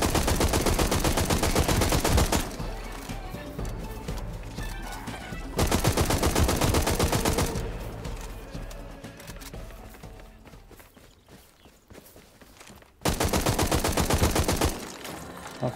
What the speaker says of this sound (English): Someone shooting the caravan.